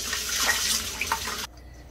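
Tap water runs and splashes over oats being rinsed in a kitchen, a short close burst of pouring that cuts off abruptly.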